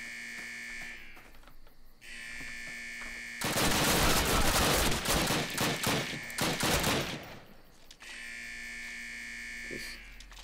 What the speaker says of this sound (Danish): Hvor fanden skyder det foran?